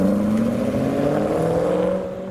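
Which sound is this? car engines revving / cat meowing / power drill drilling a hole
car engines revving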